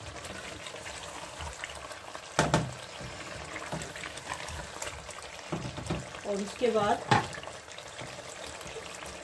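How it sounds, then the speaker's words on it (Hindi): Water is poured into a pan of beef kofta curry with fenugreek, making brief splashing and trickling bursts under someone speaking Hindi-Urdu. "इसमें हमने पानी डालना है"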